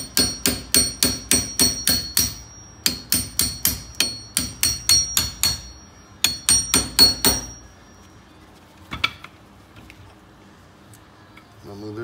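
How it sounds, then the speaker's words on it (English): Rapid, sharp metallic hammer blows striking a punch to drive out Brembo brake parts on a Dodge Challenger, in quick bursts of strikes with short pauses, then a few scattered clinks and quiet handling. "one end you hit with the hammer, the other end is gonna be on these right here"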